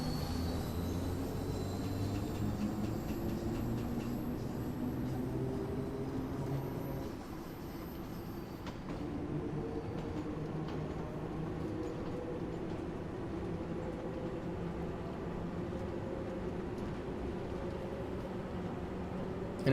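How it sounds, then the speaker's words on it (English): A train pulls away from the far platform at a station in Train Sim World 2, on the Stonebridge Park to Wembley Central line: a steady, fairly faint rumble and hiss that eases slightly partway through, with no talk. "You can hear a train just leaving the other platform as well."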